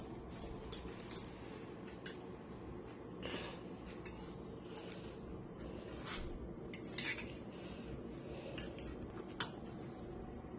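Cutlery scraping and clinking against a dish while food is stirred and mixed, faint and close with scattered light metallic ticks over a quiet background.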